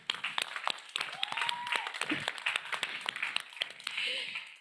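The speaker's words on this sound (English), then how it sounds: "Please give our teams a warm round of applause" Sparse audience clapping for competing teams at a youth food forum event, scattered individual claps with a voice speaking briefly over them.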